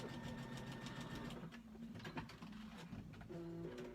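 A sewing machine runs steadily, stitching fabric pieces for a quilt block, its continuous whirring hum filling the whole span at close range with no talk.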